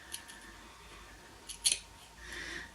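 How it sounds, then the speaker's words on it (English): Scissors snip through stiffened felt while trimming around a beaded earring or pendant, giving a few faint, quiet cuts with one crisper snip near the middle. "But I do need to cut away so that I'm not having to cover up a ton of this stuff."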